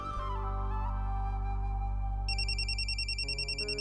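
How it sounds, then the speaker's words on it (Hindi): A mobile phone ringtone plays a repeating electronic melody, close and clear, with a higher chiming pattern joining partway through and the tune continuing without any talk. "तेरा फोन बज रहा है।"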